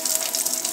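Water runs from a tap during a school physics practical that compares tap flow rates, a brief, steady splashing gush heard up close, with no talk over it.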